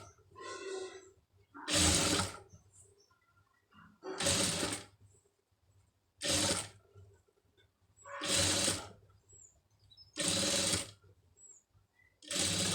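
A sewing machine stitching invisible piping on a tailoring project runs in six bursts of roughly a second each with short pauses between, close and steady, and no talking.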